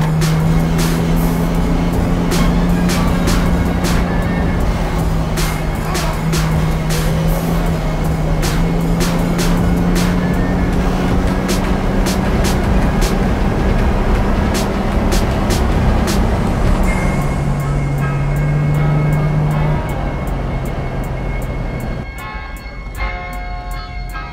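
A restored Mercedes-Benz Pagoda 280SL on a road test, its engine drone and road rumble loud and steady for about twenty seconds before easing off near the end.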